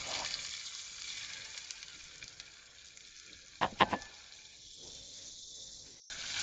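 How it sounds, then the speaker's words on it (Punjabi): Garlic and ginger paste fries with browned cumin in a pan, hissing in a steady, fairly loud sizzle, with a few sharp spatters and stirring scrapes in the middle and a sudden knock near the end. "ਗਾਰਲਿਕ ਤੇ ਜਿੰਜਰ ਦੀ ਜਿਹੜੀ ਪੇਸਟ ਆ ਉਹਨੂੰ ਤੁਸੀਂ ਪਾ ਕੇ ਇਹਦੇ ਵਿੱਚ ਭੁੰਨ ਲੈਣਾ"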